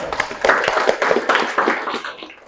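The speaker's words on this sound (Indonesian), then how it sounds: "Tuh, tepuk tangan dong." Junior high students in a Tasikmalaya informatics classroom break into a brisk round of clapping, many hands patting together quickly and close by for a couple of seconds before it tapers off.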